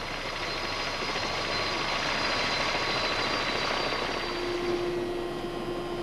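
Helicopter rotor and turbine noise reproduced in a NASA flight simulator, a steady dense whine and buzz with a constant high tone, continuous and loud for six seconds, no speech.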